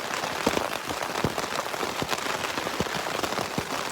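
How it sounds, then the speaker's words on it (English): Heavy rain falls steadily outside at a trail shelter on the Appalachian Trail, a dense, continuous patter with scattered louder drops, with no voices. "We're stuck here in the rain. It's really raining too."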